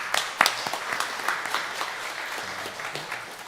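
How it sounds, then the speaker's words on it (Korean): A church congregation bursts into applause, a dense patter of claps with a few sharp louder hits near the start, then a steady clapping that continues without speech. "우리 박수 한번 해주시겠습니다."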